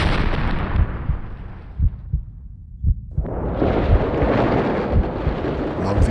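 An explosion effect in the visual novel game Chaos;Head Noah, a loud rumbling blast that swells and fades, then surges back, with deep thudding pulses running underneath.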